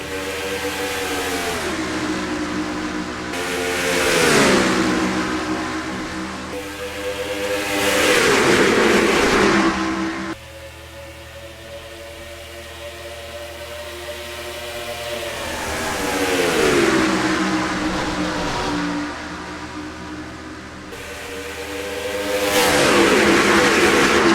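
Race car engines at Kentucky Speedway in the NASCAR Racing 2003 video game, a loud droning roar that swells and fades in repeated passes as cars sweep by, with no talk over it.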